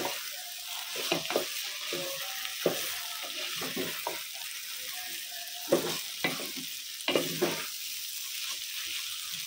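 Rice being stir-fried in a pan for khichuri, with a steady sizzle and repeated scraping clatters of a spoon or spatula against the pan, fairly close and alone.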